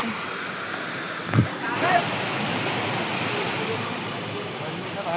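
A fast, forceful waterfall roars as a dense, constant rush of water close by, with a brief thump and a shift in the noise early on, no clear voices.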